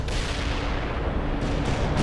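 An artillery strike in the video game World in Conflict rumbles as a dense, continuous roar of blasts, loud and sustained for the whole stretch, with no talking.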